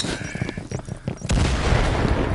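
A flashbang grenade goes off in the video game Firewall, a sudden loud burst that cuts over earlier clicks and quiet game noise, followed by a sustained ringing roar.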